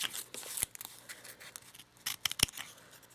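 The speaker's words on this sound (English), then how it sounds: "So just cut the petals." Scissors snip through artificial hydrangea flower petals in a few quiet, close cuts, with soft rustling of the fabric petals between the sharp clicks.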